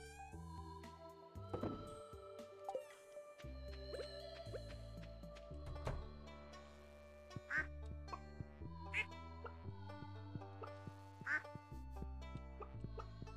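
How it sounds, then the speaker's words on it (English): Duck-like quacks from a dinosaur in the farming video game Stardew Valley, a few short calls popping up over steady, melodic in-game music with no talking. "Did the dinosaur make a duck noise?"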